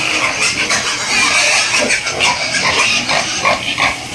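Grower pigs at a farm squeal and grunt loudly and continuously at dry-feeding time, a dense, close chorus of overlapping high-pitched squeals.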